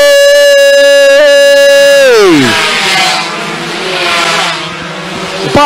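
Two-stroke 116cc underbone racing motorcycles scream past on a circuit, one close, loud engine whining high then dropping sharply in pitch as it passes. More bikes buzz behind it and rise again near the end.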